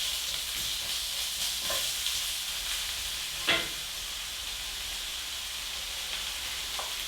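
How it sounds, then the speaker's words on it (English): Onions sauté in hot bacon grease with a soft, steady sizzle and hiss. A few light clicks and one sharper clatter of a utensil come through, with no talking. "onions to the hot grease. And saute them just until they're a little bit translucent."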